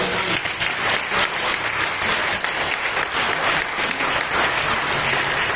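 Dense, steady applause from a church congregation fills the whole stretch, loud and sustained without a break.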